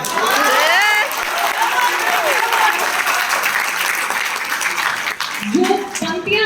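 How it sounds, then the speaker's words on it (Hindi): An audience at a Hindi poetry recital applauds with dense, sustained clapping that fills the room, fading slightly toward the end as a voice begins speaking over it. "तालियां कमजोर हैं आपकी।"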